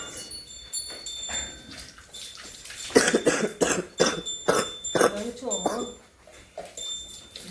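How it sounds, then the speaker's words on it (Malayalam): Several sharp coughs in a row, close by, mixed in with speech and some faint background noise. "ചുമയും പ്രശ്നം പനിയല്ല, പക്ഷേ ചുമ മാറണില്ല"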